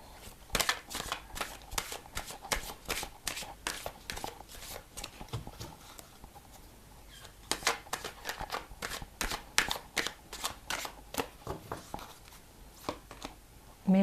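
Rapid, papery riffling and slapping of tarot cards being shuffled and handled, a steady run of crisp flicks close by with brief pauses, no talk.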